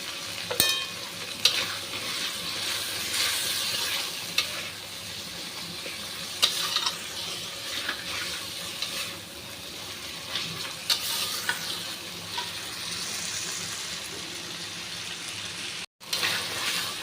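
Nut paste masala with salt and turmeric frying and being stirred in a pan for vegetarian dhokar dalna, a continuous close sizzle and scraping with occasional spoon knocks, running alone for a long stretch without voices.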